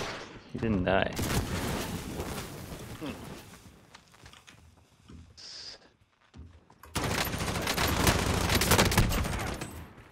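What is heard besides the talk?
gunfire from a .50 gun in the video game Warzone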